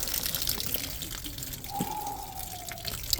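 Water draining and dripping off rinsed shredded potatoes for hash browns, a soft continuous trickle with scattered drips and a faint tonal whistle in the middle, close and fairly quiet.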